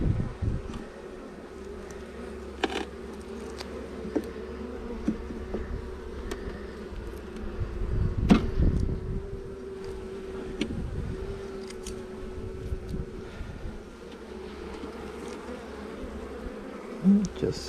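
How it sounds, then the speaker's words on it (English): Honey bees buzzing steadily around an open hive during an inspection in a heat wave, a continuous close drone with occasional louder passes as individual bees fly near. "they're beginning to get a little bit more agitated because of course this is where the queen is"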